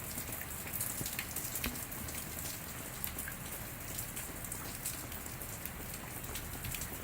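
Steady rain falls on a backyard, a dense, even patter of drops on surfaces close by that lasts throughout without pause or speech.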